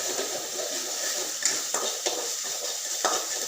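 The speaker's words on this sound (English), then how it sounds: "Szechuan paste is first sauteed. Ginger and garlic is added to the paste." Ginger and garlic sauteing in Szechuan paste in a pan, a steady soft sizzle with a few light clinks and scrapes of a stirring utensil, quiet and alone.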